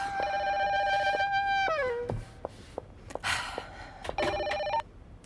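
A telephone rings with a bright electronic warbling tone, one long ring that drops in pitch, then a couple of clicks and rustles before a shorter second ring, close and clear.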